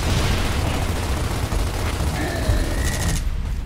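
Sustained gunfire in Gears of War, shots hammering at a vehicle in a continuous loud barrage with explosive thuds, ending in a sudden drop-off.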